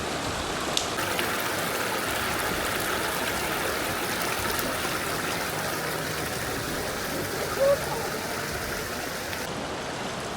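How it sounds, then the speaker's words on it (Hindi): A cold mountain stream near Leukerbad, Switzerland, rushes steadily close by, a dense, unbroken wash of flowing water with no clear individual splashes. "तो मैं अब इस स्ट्रीम में चलना शुरू हो गया हूँ और काफ़ी ठंडा पानी है"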